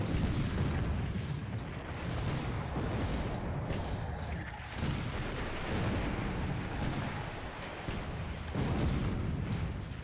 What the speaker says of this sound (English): A lot of shooting going on.